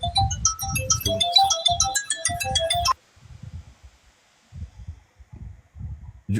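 A phone ringtone going off during an online call, a bright tinkling melody for about three seconds that then cuts out, leaving faint muffled low sounds and brief bumps.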